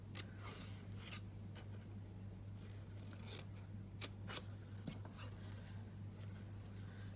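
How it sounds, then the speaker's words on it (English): Scissors snip through scored cardstock during a Stampin' Up paper-crafting session, a string of quiet, crisp cuts spaced irregularly over a low steady hum, close up with no talk. "So down the bottom we're going to cut up to that first score line on each one."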